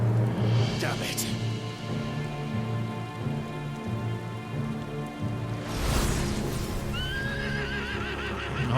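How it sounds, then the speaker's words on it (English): A horse in Final Fantasy XVI neighs loudly near the end over a steady patter of rain, with faint hoofbeats through the scene. "The horse is back."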